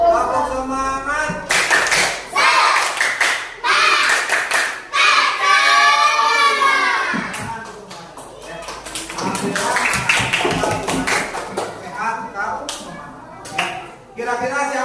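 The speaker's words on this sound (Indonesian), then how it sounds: "Bapak minta semuanya tepuk semangat terlebih dahulu." Students in a classroom perform rhythmic patterned clapping in bursts, with chanting voices and a teacher speaking between and over the clap sequences.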